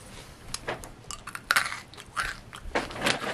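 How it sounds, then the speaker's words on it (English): Crunchy freeze-dried Skittles are bitten and chewed close to the mic, making a series of sharp, brittle crunches in an irregular rhythm with short pauses between bites. "When they freeze-dry it, they take all the liquid out so that it's crunchy."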